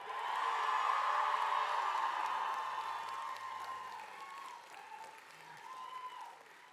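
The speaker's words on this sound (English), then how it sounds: "let's hear it, graduates. Cheer for yourselves." Graduates at a master's commencement ceremony cheer and applaud loudly for themselves in a large echoing hall, the roar of clapping and shouts swelling early, then slowly fading with a few whoops trailing off.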